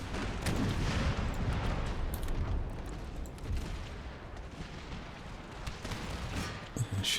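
Distant battlefield rumble of cannon fire in Empire: Total War, repeated muffled booms and crackling volleys rolling under a low, busy background.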